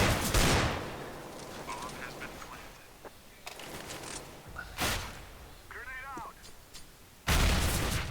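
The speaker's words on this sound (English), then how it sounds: "You hear that nade." A grenade clatters and bounces during a video game firefight with AK rifles, a few short metallic knocks caught between loud bursts of gunfire and other game effects.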